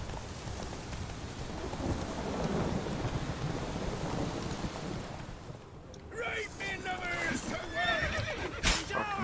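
A horse whinnies in a rising, harmonic call near the end in The Witcher 3: Wild Hunt, following a steady wash of rain-like noise and a low rumble, with a sharp thump at the close.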